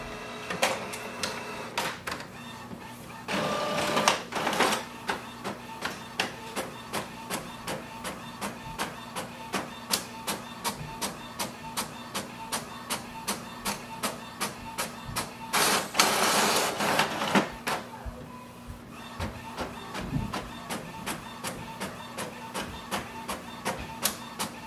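An Epson WorkForce WF-7310 inkjet printer printing a page, with a fast steady clicking of the carriage running throughout and two louder whirring feed passes. The sound is close and continuous.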